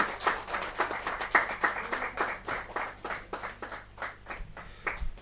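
Scattered hand clapping from an audience at a Hindi poetry gathering, a kavi sammelan, rising and falling in uneven bursts under a background hum, with a voice faintly present.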